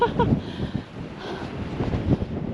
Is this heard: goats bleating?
no